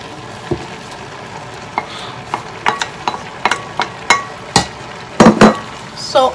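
Sliced tomato and onions stirred into Nigerian concoction rice in a frying pan, a run of loud, close spoon knocks and scrapes against the pot over a low sizzle.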